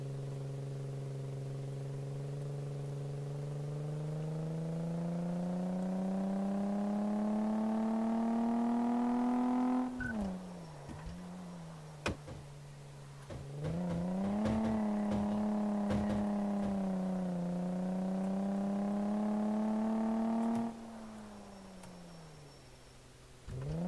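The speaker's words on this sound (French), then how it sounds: "regardez, on va l'entendre au bruit du moteur" A simulated car engine during a test drive in the game Car Mechanic Simulator 2014, a steady droning hum that rises with revs, dips between shifts, then climbs and settles again, clear and alone.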